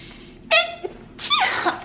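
Someone sneezes twice in quick succession, a sharp breathy intake then a loud burst followed by a second explosive sneeze, close and alone.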